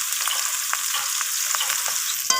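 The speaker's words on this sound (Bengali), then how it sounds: "তো আমি মাছগুলোকে এরপর লালচে করে দু পিঠ মাছগুলো ভেজে নেব।" Pieces of rohu fish fry in oil with a bright, steady hiss and scattered small pops and crackles, close and fairly loud, without any voices.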